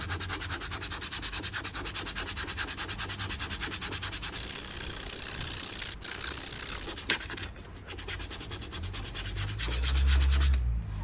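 Leather uppers of 33-year-old vintage Timberland boots are hand-sanded with fine abrasive in a steady, rapid back-and-forth rubbing, close and continuous, with a few brief pauses.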